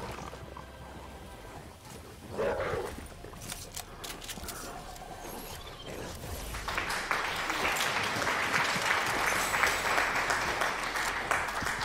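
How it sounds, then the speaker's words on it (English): Applause in a game setting builds from scattered claps into a dense, sustained wash of clapping over the second half, moderately loud, with a few louder knocks and bumps early on. "thank you for the applause, Gabbler."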